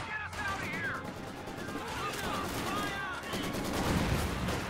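Machine gun fire in Company of Heroes 2 crackles in rapid bursts amid a dense wartime battle din, steady and moderately loud, with a voice speaking over it.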